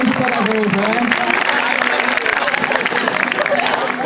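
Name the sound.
audience applause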